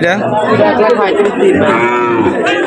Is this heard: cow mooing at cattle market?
yes